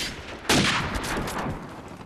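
A burst of video game gunfire, a wall-bang shot in a first-person shooter, cracks out sharply once and trails off into a rattling echo.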